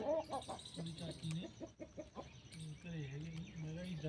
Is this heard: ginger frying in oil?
no